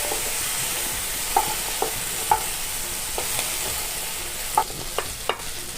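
Small shrimp fry in hot oil in a pan with a continuous crackling sizzle, punctuated by occasional sharp pops and stirring scrapes, close and clear with no talking.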